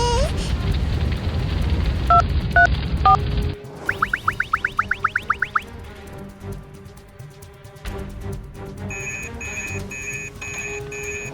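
A string of quick rising electronic beeps, like keypad tones, as a telephone dials emergency number 119 in a children's cartoon, in a close rapid run, followed by a steady tone and later a repeating ringback pattern.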